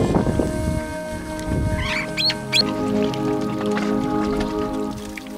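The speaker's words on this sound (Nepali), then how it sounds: "यो पहराहरूमा अलिअलि चराचुरुङ्गीको आवाजहरू सुनिरहेको छौँ।" Birds calling among rocky cliffs on a mountain trail, a few short chirps and whistles scattered over running water and outdoor ambience, moderately near.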